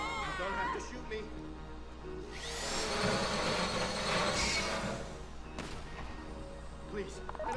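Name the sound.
drill running during a heist in the video game Grand Theft Auto V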